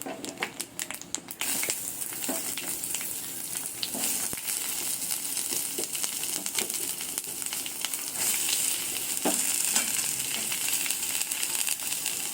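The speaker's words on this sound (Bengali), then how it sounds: "এবার এই তেলের মধ্যে একে একে আমি দিয়ে দেবো পেঁয়াজ কুচি" Chopped onion and green chili sizzling in hot oil in a pan while making ghugni, a steady close frying crackle with occasional stirring scrapes.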